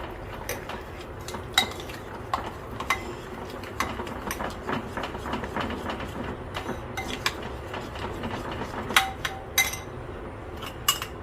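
A spoon stirs plum cake batter in a bowl with repeated soft scraping clinks and light taps, steady and close, with no talk.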